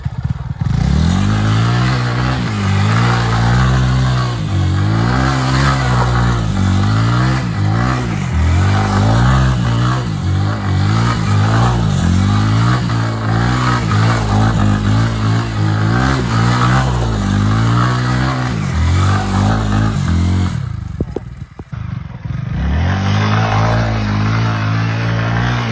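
Three motorcycles, a Yamaha R15 v3, a TVS Apache RTR 160 and a Bajo NS125, rev hard in turn, the engine note climbing and dropping in repeated loud bursts up close before a brief cut and quieter idle at the end.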